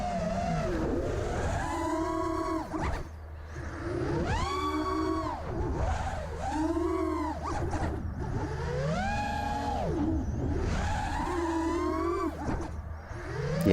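A quadcopter drone's propellers whine through flips and rolls, surging in five loud rising-and-falling bursts of pitched motor and prop noise over a steady low rumble, with no talking.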